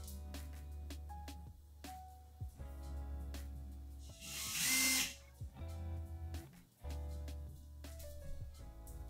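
A cordless drill-driver set to drill mode whirs in one loud sustained burst near the middle while drilling a hole during home DIY decorating work, with quieter handling and music-like tones around it.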